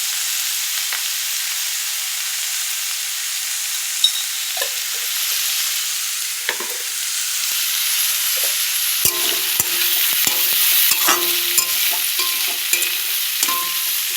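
Onions frying in oil for Bihari dal tadka, a steady sizzle broken by intermittent scraping and stirring clatter, close and continuous with no talk.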